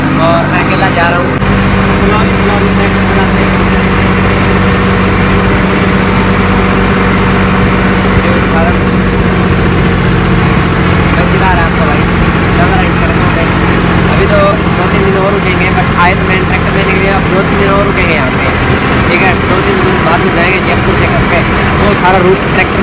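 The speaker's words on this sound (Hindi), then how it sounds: "आपका भाई चला रहा है ट्रैक्टर" A tractor engine runs steadily while being driven, a loud, continuous mid-range chugging rumble that holds throughout and sits under occasional talking.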